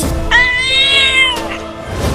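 A cartoon cat in a Hindi comedy animation gives one loud, drawn-out, high meow close up, followed by a brief trailing murmur.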